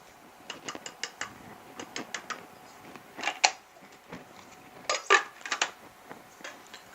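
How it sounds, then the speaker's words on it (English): A whisk stirs flour and ground spices together in a bowl, giving quiet, rapid bursts of light clicking and tapping against the bowl with short pauses between runs. "Whisk them together until they're thoroughly mixed."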